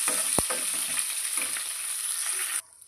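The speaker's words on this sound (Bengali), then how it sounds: "এখন আমি এই তেলের মধ্যে ফোড়নগুলো দিয়ে দেবো।" Whole cumin, whole garam masala and three dried red chillies sizzle steadily in hot oil for Bengali chholar dal, a loud continuous crackle with a brief sharp pop early on, cutting off abruptly near the end.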